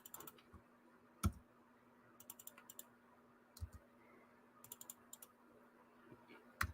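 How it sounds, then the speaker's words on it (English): Quiet, sparse clicks of letters being typed on a computer keyboard, scattered single keystrokes and short clusters with pauses in between. "And then I can type in my letters."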